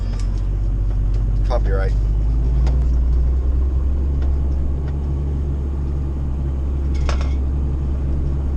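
A car drives along a road, its engine making a steady low rumble heard from inside, with a short spoken word near the start and a few faint clicks.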